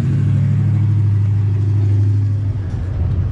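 A car with a Flowmaster exhaust idles at a hot rod gathering, putting out a steady, deep, loud rumble close by with no talk over it.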